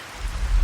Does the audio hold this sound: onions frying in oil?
no